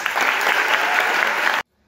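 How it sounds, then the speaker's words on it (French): Audience at a youth climate event in the Seychelles applauds the team from the Comoros, a dense, steady burst of clapping from a crowd that cuts off sharply into silence. "Commençons par applaudir chaleureusement la première équipe venant de Comores."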